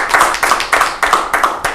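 Rhythmic burst of audience clapping at a Rajasthan Parishad honoring event, several even surges of hands close together, loud and free of talk.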